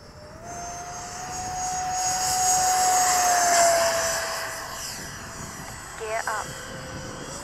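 A Freewing QF4 model jet rises in a smooth whine as it takes off, swelling louder then fading as it climbs away, with a short tonal blip near the end; no talk over it.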